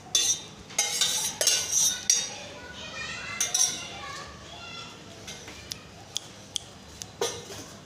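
Metal utensils clink and scrape against dishes while Maggi soup noodles are served out in a home kitchen, sharp bright taps scattered through the moment, with a voice talking and children faintly in the background.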